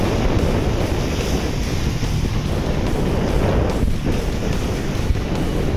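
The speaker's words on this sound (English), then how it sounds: "Waves are building." Wind roars steadily across the microphone aboard a sailboat in building afternoon winds around 14 knots, with waves of three to four feet washing beneath, a loud, constant rushing with no speech.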